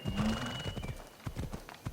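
The stallion Phobos trots in the Assassin's Creed Odyssey game, giving steady clip-clop hoofbeats with a brief neigh near the start, set against game music and ambience.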